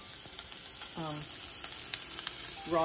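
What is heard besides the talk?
breakfast sausage frying in a pan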